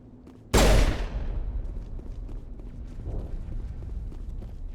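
A single loud blast of gunfire in Mass Effect Legendary Edition, a sudden sharp crack that decays into a rumbling tail, followed by a steady background din with a softer burst later.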